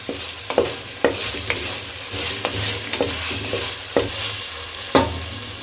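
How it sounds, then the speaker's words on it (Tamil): Ginger garlic paste and sliced tomato sauté in a pan with a loud, steady sizzle, broken by a spatula scraping and stirring roughly once a second. "இப்போ இதையும் சேர்த்து நல்லா வதக்கி விட்டுருவோம்"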